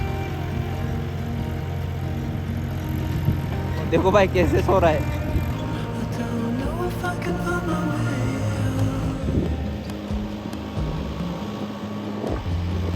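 A tractor churning through deep mud, its engine a steady low drone throughout with a brief louder surge, while someone talks over it nearby.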